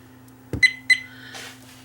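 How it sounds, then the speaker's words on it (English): A VIOFO A129 Pro Duo 4K dashcam emitting a double electronic beep, two short, bright tones in quick succession following a soft click, heard close and alone over a faint hum. "If you put all sounds on, it will do the double beep"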